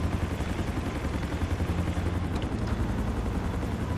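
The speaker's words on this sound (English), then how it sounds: "This is really the coolest looking helicopter I have seen in GTA 5." A helicopter in GTA 5 flies with a dense, continuous rotor and engine roar, loud and steady throughout, with no voices.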